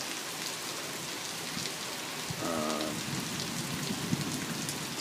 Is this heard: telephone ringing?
no